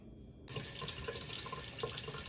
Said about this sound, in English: So here I'm gonna catch some water into the pot and I'm gonna rinse the saltfish off.